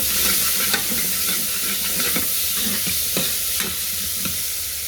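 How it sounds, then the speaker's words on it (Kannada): Chopped onion frying in a pan for restaurant-style chana masala, giving a steady close sizzle with occasional stirring scrapes and clicks throughout, no talking. "ಈಗ ಒಂದು ಈರುಳ್ಳಿ ಕಟ್ ಮಾಡ್ಕೊಂಡಿದ್ದೀನಿ, ಹಾಕ್ಕೊತೀನಿ."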